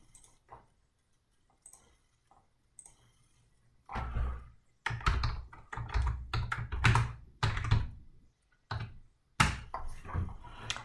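Rapid typing on a computer keyboard during a coding exercise, beginning after a quiet stretch, with bursts of close, crisp keystrokes and brief pauses, ending in a few louder presses, with no talk.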